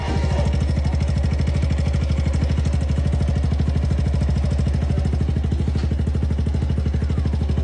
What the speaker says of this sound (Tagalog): Ganito nga pala yung tunog ng ating Gixxer, pakinggan yung mabuti.